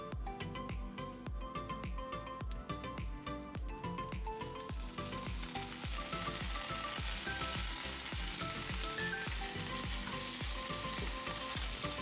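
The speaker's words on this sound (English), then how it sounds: "melt some butter, put some sage leaves in it" Butter sizzling with sage leaves in a pan, a steady close frying crackle under a regular rhythm of repeating music, with the sizzle swelling louder partway through.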